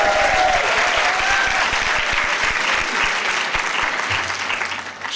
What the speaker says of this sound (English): Sheila Oliver, and you can all applaud now.